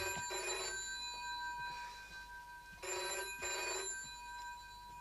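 An old-fashioned telephone bell rings in two clear bursts indoors, each about a second long with a bright metallic tone, separated by a pause, heard alone without talk.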